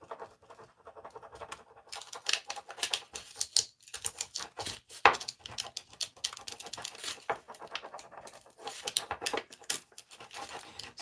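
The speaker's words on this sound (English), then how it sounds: "And I'm going to start pulling up on that paper." Paper peeled up from a burnished surface during vintage home interior decor work, heard as a run of close, dry crackling and tearing rasps with short pauses and one sharper rip midway, no talking.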